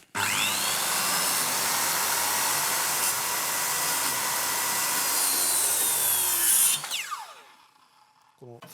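Circular saw cutting a tenon shoulder in wood, a loud continuous close whine for about seven seconds that then drops away as the blade spins down.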